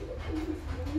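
High-flying breeding pigeon cooing nearby in a short, soft, low repeating coo with a faint hum behind it.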